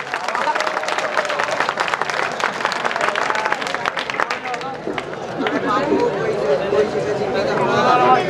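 A crowd at a poetry recital applauds with dense, rapid clapping that carries on throughout, a speaking voice mixed in over the noise.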